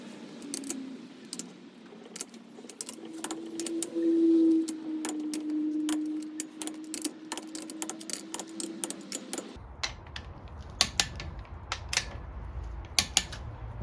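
A torque wrench set to 30 Nm tightens top-end bolts on a Triumph Bobber, with scattered quiet clicks and ratcheting ticks against a faint background hum, close by and unhurried.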